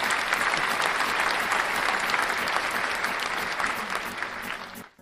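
Audience applause for podcast guests, a full steady burst of clapping that holds strong before cutting off abruptly at the end.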